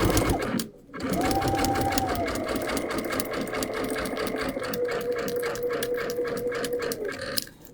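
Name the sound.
Brother sewing machine stitching with couching foot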